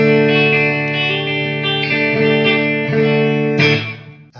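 Telecaster electric guitar played through compressor and BB-Box preamp pedals into a small amp, recorded on camera audio: overdriven sustained chords with several strums, loud and alone.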